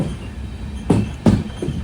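The Panchaganga Express pulls into Gokarna Road station, its passing cars producing two heavy rhythmic thumps over a steady rumbling rail noise, close and loud.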